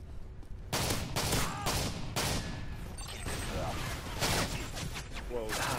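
Rapid machine gun fire from a Call of Duty: Modern Warfare 3 multiplayer match rattles in repeated bursts, several loud volleys following one another with short gaps, loud and close in the mix.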